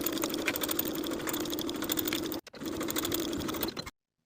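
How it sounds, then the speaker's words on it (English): A domestic sewing machine stitches a pant seam at a 5/8 inch allowance, a fast, even, close whirring rattle that breaks for a moment and then runs again before stopping. "And sew in place with a 5/8 inch seam allowance."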